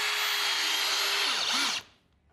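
A power drill drives screws into concrete formwork: a loud, steady high-pitched whine that winds down at the end, followed by near silence.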